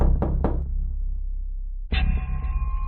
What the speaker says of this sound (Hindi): इसलिए गुल्ली एक बार फिर से दरवाजा खटखटाता है